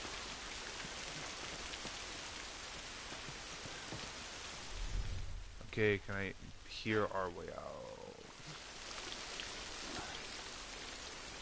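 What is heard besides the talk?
rain falling in The Last of Us Remastered video game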